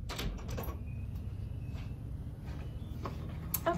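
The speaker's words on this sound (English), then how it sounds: "I'm gonna shut my door just in case." Bedroom door being shut at home, a short close knock and latch click at the start, then quiet room tone with a couple of faint ticks and a small knock near the end.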